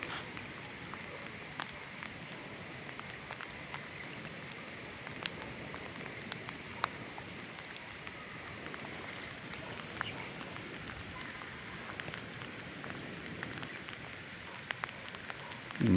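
Steady light rain patters on a surface, a soft continuous hiss with scattered drops, no voices.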